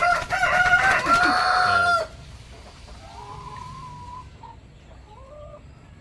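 Chickens sound off loudly in a coop with layered squawking and clucking for about two seconds, then softer, scattered clucks and calls carry on under quiet background noise while a person speaks briefly.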